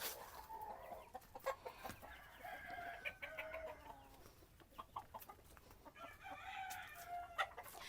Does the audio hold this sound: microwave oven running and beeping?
no